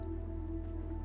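Water flowing in a flood-fixing video game, a steady soft trickling stream under a low constant hum, brief and unbroken.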